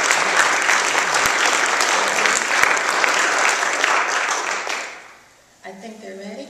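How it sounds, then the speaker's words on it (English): Audience applause at an event, dense sustained clapping from a sizable crowd that fades out toward the end, followed by a brief moment of music or voice. "Another round of applause, please."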